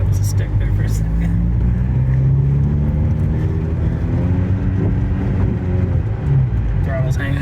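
A Ford SVT Focus engine runs with a hanging throttle, holding a steady, close, loud drone with a low rumble that never drops back to idle throughout.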